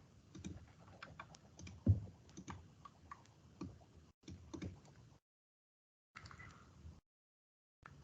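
Computer keyboard typing in a quiet room: irregular bursts of light key clicks with one heavier thump, broken by short pauses of near silence.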